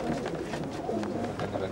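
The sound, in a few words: pigeons cooing in a loft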